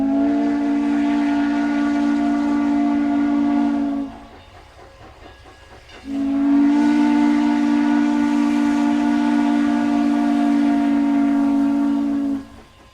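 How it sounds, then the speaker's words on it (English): A steam train whistle in Utah's Heber Valley blows two long, loud, steady blasts separated by a brief pause, with a soft hiss of steam beneath. "the lonesome whistle's a regular thing to hear."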